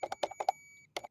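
Walmart microwave beeping: a quick run of short electronic beeps, a sustained tone, then two more beeps, fairly faint and close, with no talking.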